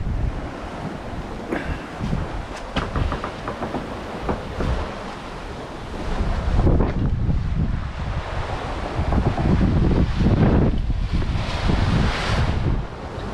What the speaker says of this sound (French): il y a 20 nœuds de vent, on avance à 9 nœuds, voilà, avec les vagues